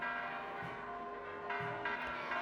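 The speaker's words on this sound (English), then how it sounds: "The church bells toll non-stop" Church bells toll continuously at San Miguel Arcángel Church in Ixmiquilpan during a crowded religious parade, with steady ringing tones and a few clanging strikes over a busy outdoor crowd.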